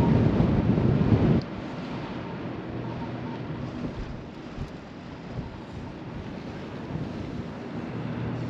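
Strong wind buffets the microphone outdoors on a frozen Minnesota lake during solo ice fishing for panfish, a steady broadband roar that is loudest in the first second and then continues at an even level throughout, with no voices.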